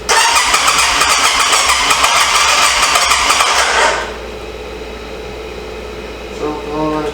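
A 2005 Honda Rincon 650 ATV, abandoned with carburetor trouble, cranks and catches, roaring loud and rough for about four seconds before settling to a quieter idle on choke, with a brief mechanical rattle near the end.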